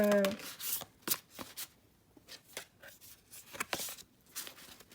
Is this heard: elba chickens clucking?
no